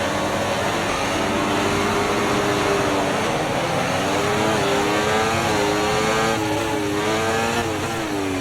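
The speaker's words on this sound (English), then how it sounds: "And off the line we get a good start" A Formula 1 race car launches off the start line in a racing video game, its engine screaming loudly and continuously with rising, shifting pitch as it accelerates, with no talk over it.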